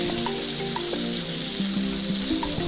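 Bell peppers frying slowly in a pan, a soft, even sizzle with light crackles and spattering pops, steady and close with no voices.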